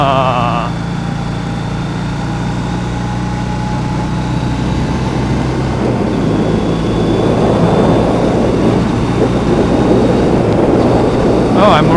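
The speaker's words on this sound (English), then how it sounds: "low rumble to the exhaust note that I like" A steady, deep engine rumble drones throughout, loud and close, with wind-like noise building toward the end, a 2014 Triumph Bonneville motorcycle exhaust at low throttle in top gear.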